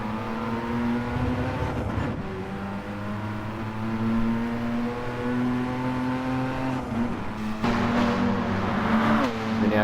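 Race cars in Gran Turismo Sport circle a track during an FIA Nations Cup race, with a steady, loud engine drone and a constant harmonic whine that shifts pitch as the cars accelerate and brake through a corner. A commentator talks faintly underneath.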